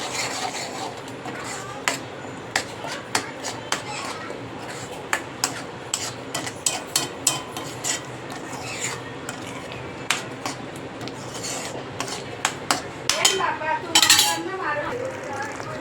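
Spoon stirring garam masala, coriander-cumin powder and other spices into a simmering chole gravy in a metal pot, with repeated clinks and scrapes against the pot sides over a low steady background.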